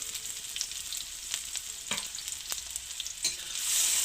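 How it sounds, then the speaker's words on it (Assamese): Chopped onions frying in hot oil in a kadai, a steady close sizzle broken by a few sharp scrapes of a stirring spoon, swelling louder near the end; no talking. "পিঁয়াজখিনি এতিয়া লৰাই দিছোঁ পিঁয়াজখিনি মোৰ ভাজা হৈছে"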